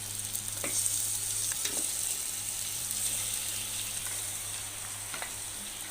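Mutton trotters sizzling as they are added to a masala, with a loud, steady frying hiss and a few soft stirring knocks, and no talking.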